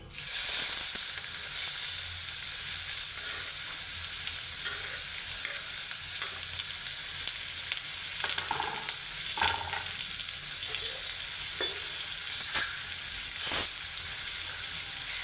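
Chopped onion hits hot oil seasoned with hing (asafoetida) in a home kitchen pan, a continuous close sizzle and frying hiss with occasional stirring scrapes and clinks as the vegetables cook for a radish dish.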